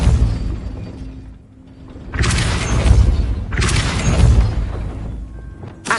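Depulso spell cast in the Hogwarts Legacy video game: two loud, booming blasts with a shattering crackle, each swelling and lingering for about a second, separated by a brief dip in rumbling ambience.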